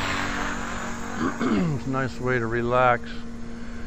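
A steady high whine from an HK450 radio-controlled model helicopter in flight carries throughout, with someone speaking over it partway through.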